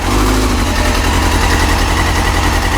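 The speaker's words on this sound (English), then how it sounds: "you hear this thing is like randomly having a jump in idle speed" A Yamaha YZF-R6 motorcycle engine idles partially choked with an unsteady idle speed, a loud close continuous buzzing rumble that wavers as the revs shift.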